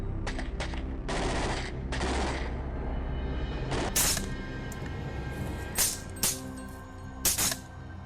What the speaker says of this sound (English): The shot shattered the silence. The herd panicked and fled